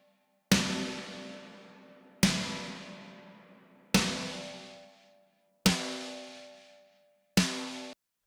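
Five isolated snare drum hits from the top snare track of an epic hybrid trailer mix, each a loud sharp crack with a long ringing, reverberant decay, evenly spaced about every second and a half.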